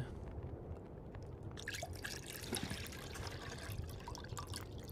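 Water pours into a pot in The Long Dark game, a steady liquid trickle with dripping, continuous and fairly close, no voices over it.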